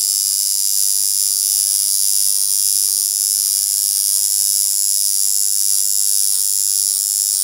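A tattoo machine buzzes steadily on skin while shading with the same ink, run at a set voltage and speed; a continuous close, loud electric whine with a bright high-pitched drone holds without pause throughout.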